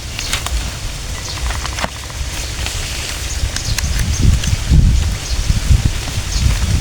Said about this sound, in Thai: ลมดีขนาดเลย